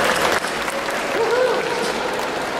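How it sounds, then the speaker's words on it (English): Audience applause following a skit: a sustained round of clapping from a crowd filling the room, with a voice calling out briefly over it. "Let's give one more big round of applause right there"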